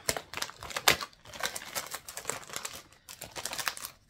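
A tape dispenser being unpacked, with irregular crinkling and rustling of packaging, close and fairly quiet, in bursts and scrapes with short pauses and no talking.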